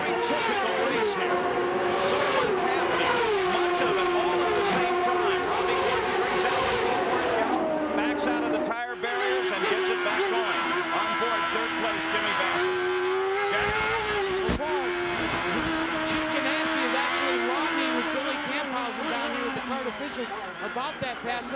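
IndyCar race cars run at the 1996 Long Beach race, a continuous high engine whine that shifts pitch as cars accelerate and pass, heard under steady commentary.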